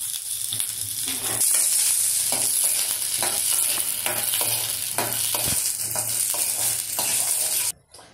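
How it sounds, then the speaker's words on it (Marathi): Fresh pigeon peas are stirred in hot oil, a loud steady sizzle with rhythmic scrapes and clinks of a spoon against the pan, cutting off abruptly near the end. "आता यामध्ये आपण व्यवस्थित तेलामध्ये फिरवून घेणार आहोत"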